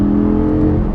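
Lamborghini Gallardo LP550-2 with a naturally aspirated 5.2-liter V10 holding a steady, loud, close drone with a strong low hum and no voices.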